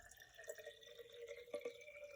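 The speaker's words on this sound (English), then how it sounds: "Then I'm going to add 500 milliliters of water into the mason jar" Water being poured into a mason jar, 500 milliliters added to dissolve cornstarch, heard as a steady trickling and dripping stream with a few brief splashes, fairly quiet and without talk.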